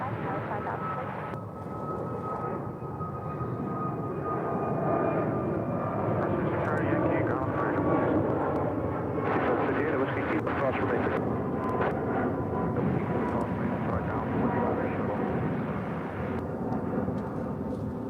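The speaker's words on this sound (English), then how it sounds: "That was American Airlines flight 1589 heading to Los Angeles at A321neo." An American Airlines Airbus A321neo jet airliner takes off, its engines building to a loud, steady broadband roar that holds for the full stretch with a faint whine on top and talk heard beneath it.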